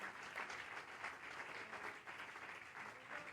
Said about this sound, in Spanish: Aplauda al Señor esta noche.